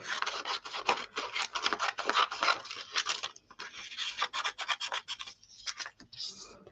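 Scissors cutting out paper pieces at a craft table, a close run of quick rasping snips and rustles in an uneven rhythm, with short pauses between cuts and no talking.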